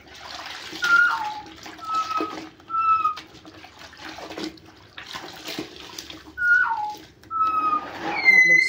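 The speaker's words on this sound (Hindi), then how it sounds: "अच्छे से पोछा लगाओ।" Floor mopped with shampoo-mixed water, giving repeated wet swishing strokes in an uneven rhythm, with occasional short whistle-like tones between them.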